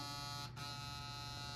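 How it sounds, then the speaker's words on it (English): An Oral-B iO Series 3 rechargeable electric toothbrush head vibrating rapidly gives a steady, close, high buzzing hum with a very brief dip partway through, heard alone. "this head vibrates back and forth really quickly"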